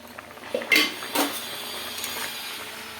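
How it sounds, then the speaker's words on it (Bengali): A metal lid lifted off a pot of potatoes boiling in water, with a couple of clinks and clanks of metal near the mic, then a soft bubbling kitchen background. "ঢাকাটা খুলে নেবো।"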